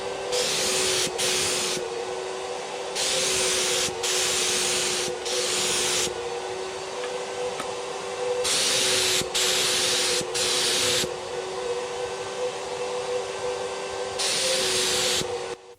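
A Fuji Mini Mite 4 turbine sprayer runs with a constant loud whine while paint is sprayed onto a kitchen cabinet drawer face in repeated hissing bursts, each a second or two long with short gaps between.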